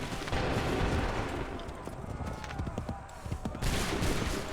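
A battlefield volley of gunfire crackles as a dense burst of overlapping shots, loud and close at first, thinning briefly, then swelling again near the end amid a rough, chaotic din.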